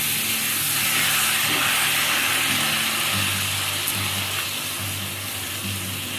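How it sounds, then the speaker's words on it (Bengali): Water pours into a cooking pan of simmering jackfruit and Gobindobhog rice curry, giving a steady rushing hiss that stays loud and continuous for several seconds and eases slightly toward the end. "এবার দিয়ে দেবো পরিমাণ মতো জল"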